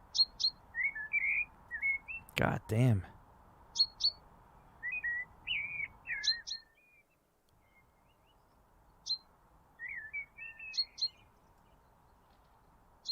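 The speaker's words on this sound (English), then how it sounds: "those birds are fucking loud" Small birds outdoors chirp and tweet loudly in repeated short bursts over a steady low hum. A voice briefly cuts in partway through.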